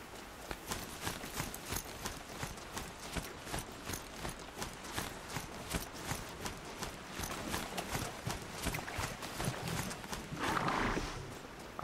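A horse's hooves clip-clop in a steady walking rhythm in the video game Horizon Zero Dawn, loud and close throughout, with a brief whinny-like swell near the end.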